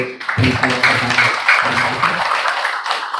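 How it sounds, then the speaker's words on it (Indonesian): Audience applauding at a village head election debate, a short burst of clapping hands with a voice speaking over the start and some sporadic claps continuing. "Tepuk tangan untuk"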